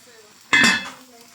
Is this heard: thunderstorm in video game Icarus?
no